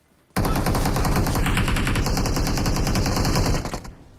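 Rapid automatic gunfire from a shooter video game, a dense unbroken burst of shots lasting several seconds, loud and close, with no talk over it.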